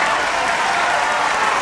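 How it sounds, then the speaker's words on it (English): An audience claps in dense, even applause at full volume that fills the whole short stretch, with no voices on top. "I'm proud of myself. Let's clap it up."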